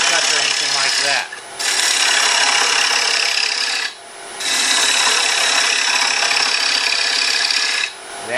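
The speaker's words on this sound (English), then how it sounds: "just turn up the speed you're comfortable at, watch your angles on your bevels, and then just start removing waste" A wood lathe spins a carved-rim bowl while a gouge removes waste, giving a loud, steady rasping scrape close by that cuts out briefly three times as the tool lifts off.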